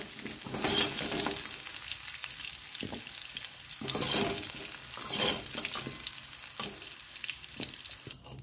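Potatoes sizzle and crackle in hot oil while a utensil stirs and lifts them out, with louder bursts of frying and scraping every few seconds, in a village-style cauliflower and shrimp dish.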